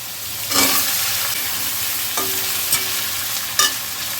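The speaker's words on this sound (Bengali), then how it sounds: "ওই মাছের ভাজার তেলেই আমি কালো জিরে ফোড়ন দিচ্ছি পেঁয়াজ কুচি দিচ্ছি দিচ্ছি টমেটো আর গাঠি কচু" Onion, tomato and taro hitting hot mustard oil with nigella seeds after fish has been fried in it, giving a steady loud sizzle with a few sharp stirring scrapes and clinks and no voices.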